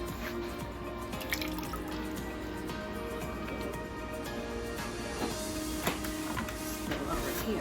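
Dye dripping and trickling from squeezed tie-dye fabric, a close, quiet, continuous run of small liquid drips and splashes with occasional sharper drops.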